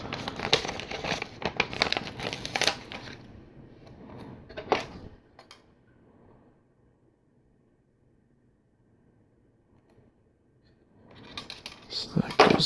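A LEGO Technic sticker sheet from the Heavy Lift Helicopter set #42052 being handled, with crisp crinkling and rustling bursts close up, then a long quiet gap before more crackly handling returns at the end.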